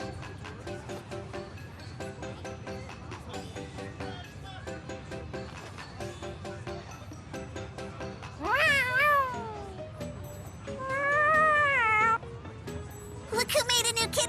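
A cat meows several times in the video game Tales of Xillia 2, with bright rising-and-falling cries over steady game music in the second half of the clip.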